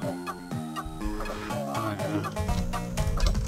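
Chickens cluck repeatedly in the Game Boy Advance shooting game Chicken Shoot, with choppy digitized clucks over busy game music and effects that grow louder toward the end.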